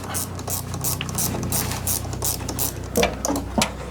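An adjustment nut on a slide-out room cable of a BAL Accuslide RV room is loosened with a tool, making a rapid, steady mechanical ratcheting clatter close by, with a few louder clicks near the end.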